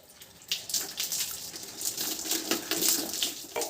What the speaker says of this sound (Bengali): এবার এই যে আমি ধুয়ে নিচ্ছি।